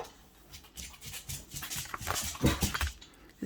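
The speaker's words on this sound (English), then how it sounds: "Oh, my dogs are fighting." Dogs fighting indoors, a scuffle of growls, yips and whimpers with scrabbling paws that builds in loudness, heard close by without speech.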